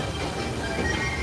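The Disneyland Railroad train runs along its tracks with a steady, fairly loud rumble and rattle and no clear talk over it.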